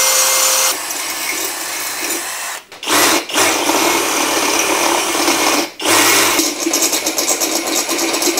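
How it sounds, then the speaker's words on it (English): A power drill bores a pilot hole through metal on a T Bucket hot rod kit, whining loudly and steadily close up, with a few brief stops and restarts partway through. "So we'll get ourselves a little pilot hole here going."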